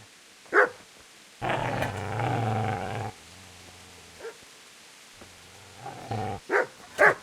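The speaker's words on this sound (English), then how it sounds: "Get away, you mutt!" A dog in the Kingdom Come: Deliverance video game gives a sharp bark, then growls low and steadily for a couple of seconds, followed by a few more close, loud barks and snarls.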